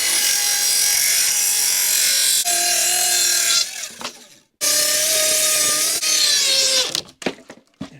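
Power saw cutting through plywood, loud and close, a high whining rasp running in two long passes with a short pause between and the pitch shifting as the blade works the sheet.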